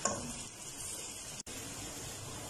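Onions frying in a pan for mutton karahi, a steady close sizzle with faint stirring and pan scrapes running throughout, broken by one brief silent gap midway.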